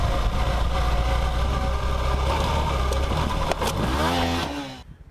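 An adventure motorcycle engine runs loud and close on the steep Black Bear Pass, a steady rumble that rises and swells in revs near the end before cutting out abruptly.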